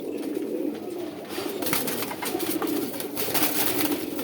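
Khoyra pigeons coo softly and repeatedly at close range, a low murmuring call with faint rustling behind it and no talk.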